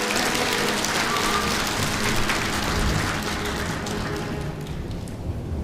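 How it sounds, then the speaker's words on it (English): Heavy rain pours steadily during a storm, a loud, dense, continuous hiss of drops hitting surfaces close by, with no breaks. "Will this rain ever stop?"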